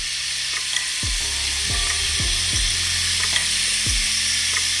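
Floured shrimp fry in a pan with a steady, dense sizzle, and a few low clunks from moving the pan or pieces land at intervals, with no voices.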